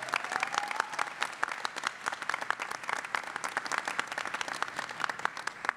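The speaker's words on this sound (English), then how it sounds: "Big round of applause for my community champions." Steady, dense applause from a crowd at an incubator pitch night, many hands clapping continuously throughout with no voices breaking through.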